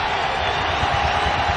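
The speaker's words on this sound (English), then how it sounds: "The crowd again" A college basketball crowd in the Carrier Dome at a St. Bonaventure–Syracuse game gives off a loud, steady roar of cheering, broad and enveloping across the whole short moment.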